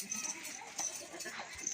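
A goat bleats faintly a few times at a livestock sale, thin repeated cries over a murmuring background with low voices nearby.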